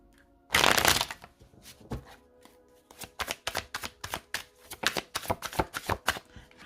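Tarot cards being shuffled and cut by hand, opening with a loud riffling burst, then a pause and a run of quick, crisp slaps and taps as the deck is split and restacked, close and clear with no talking.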